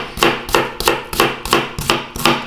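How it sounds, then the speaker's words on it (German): A shallot being hammered into coarse pieces on a board while making gazpacho, with about seven sharp, evenly spaced blows landing close and loud, roughly two per second. "Einfach nur grob klein hämmern,"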